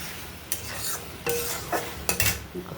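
Okra curry with mustard paste is stirred in a pan: a spoon scrapes in several quick, uneven strokes over a soft, low sizzle close by.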